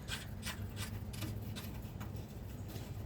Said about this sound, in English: Thread the nut back on.